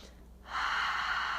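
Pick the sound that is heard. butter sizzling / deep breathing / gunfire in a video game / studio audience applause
deep breathing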